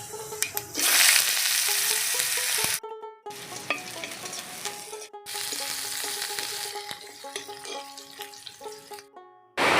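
Cumin, black cumin and onion hitting hot oil in a pan, a loud bright sizzle that cuts off and restarts several times, with some stirring and clinking between bursts.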